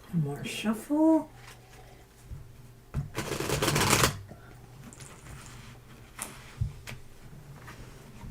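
Elemental North Tarot cards being shuffled by hand, a dense riffling burst near the middle with softer card handling and brief talk around it, close and moderately loud.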